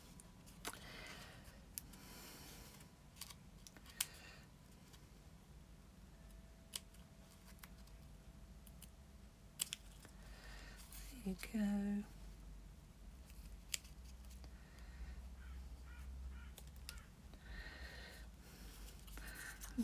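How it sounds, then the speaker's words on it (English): Scissors snip through craft material in a quiet room, soft scattered clicks and cuts spread throughout, mostly faint, with one brief louder burst near the middle; a voice speaks briefly. "get my scissors and just chop that out"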